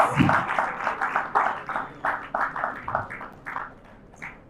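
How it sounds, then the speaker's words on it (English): Applause from an audience at a live-streamed tech community event, a steady patter of claps sustained across the clip and gradually thinning toward the end, with no talk over it. "I want you to give them a hot round of applause"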